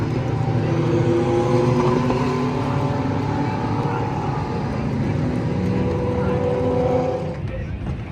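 Race cars roaring past together on the final lap of the Sahlen's Six Hours endurance race at Watkins Glen, a loud sustained engine drone that holds steady before easing off near the end, with crowd noise underneath.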